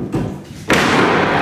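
A sudden crack and thud as the tongue of a tongue-and-groove floorboard breaks while being pried up, followed by a loud sustained rumble of the board shifting, close by.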